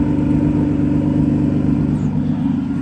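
Supercharged Infiniti G35 idling in a loud, steady low rumble that stays close and even throughout, with no strong rev climb and no voices.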